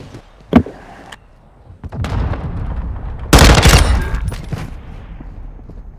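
Gunfire in Call of Duty: Modern Warfare II, a sharp shot early, then a dense burst of loud rapid fire midway over rumbling game background, fading out after.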